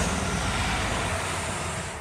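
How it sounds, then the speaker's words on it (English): A large coach bus drives past, a steady broadband rumble of engine and road noise that stays loud throughout and eases slightly at the end, with no voices. "There's a really big coach bus that just went by."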